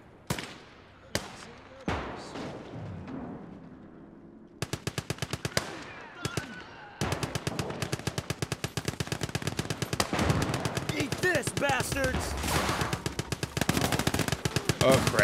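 Automatic rifle fire in the WWII game Gates of Hell: Ostfront. A few sharp single shots open, then long rapid bursts of loud, close gunfire follow, nearly unbroken toward the end.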